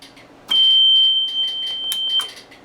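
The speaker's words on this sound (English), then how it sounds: "the overspeed alarm will go off" An overspeed alarm on railway control equipment sounds as one loud, steady high-pitched tone of a little under two seconds, with faint clicks and handling noise around it and no speech.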